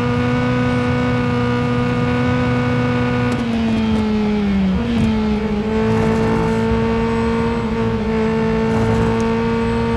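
Engine of a Honda S2000 GT race car in the Real Racing 3 video game, driving flat out: a loud, steady high-revving drone that dips briefly mid-way as it shifts or brakes, then climbs back to full throttle, with no talk.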